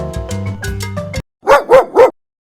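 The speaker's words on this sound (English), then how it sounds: "It is a dog." A dog barks three times in quick succession, loud and close, after a short burst of bright music; no one speaks.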